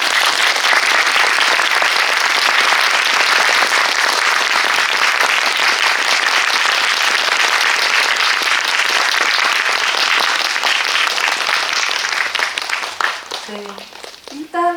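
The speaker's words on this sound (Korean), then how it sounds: "들어오시면 큰 박수 부탁드릴게요." Sustained, loud applause from a seated audience at a film screening Q&A as the director and actors walk in, steady dense clapping that thins out near the end as a voice begins.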